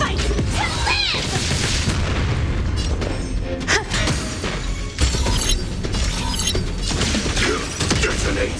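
Explosive detonation effects from the video game Honkai: Star Rail, loud booms and shattering bursts layered over dense battle sound and music, with a brief voice line heard amid the din.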